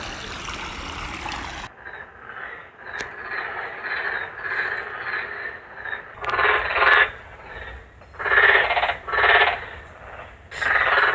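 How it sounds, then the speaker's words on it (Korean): Chorus of frogs or toads croaking at night from wet ground near a house, loud, pulsing bursts swelling and fading in irregular waves, close and dense, with no talk. "개구리인지 두꺼비인지 맹꽁인지 모르겠지만은"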